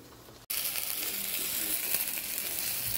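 Jerk-seasoned pork chops sizzle in a hot pan, a steady bright crackling hiss that starts abruptly after a brief pause and continues evenly at moderate volume.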